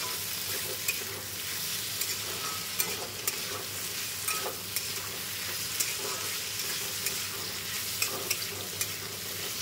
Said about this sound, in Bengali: আলুটা ভাজা বসিয়ে দিয়েছি